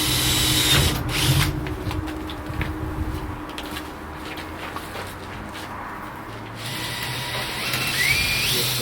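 A power driver sinks screws to fasten the cover of an infrared wood dryer, with loud mechanical whirring in several bursts and short pauses between them.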